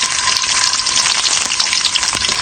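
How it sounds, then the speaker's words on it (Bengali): Chicken roast pieces frying in oil left from browning onions, a loud, dense sizzle that crackles steadily and without a break. "পেঁয়াজ বেরেস্তার তেলের মধ্যে আমি রোস্টগুলো ভেজে নেব।"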